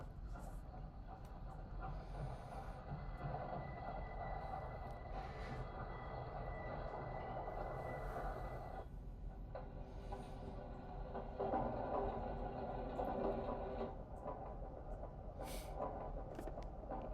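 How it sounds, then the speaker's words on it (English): Train sounds in Pierre Schaeffer's musique concrète piece, a faint continuous rumble of rolling rail cars with steady mechanical noise, a brief lull midway, then a louder rattling passage. "Here's another piece by Pierre Schaeffer, and this is about trains."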